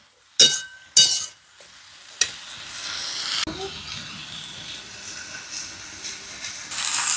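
Vegetable curry cooks in a pan, with a few sharp clinks of a spoon against the pan, then a soft sizzle and simmer while being stirred, fairly quiet and close.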